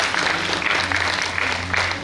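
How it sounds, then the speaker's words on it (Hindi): A theatre audience at a staged performance of Dinkar's Rashmirathi in Chhapra claps in dense, continuous applause. The clapping is loud and sustained across the whole short burst. "तालियों के साथ आप स्वागत करें"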